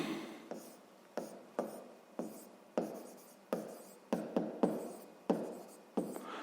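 A pen writing on paper while working a sixth-grade maths exercise, close and quiet, with short bursts of strokes and taps in an irregular rhythm, no voices.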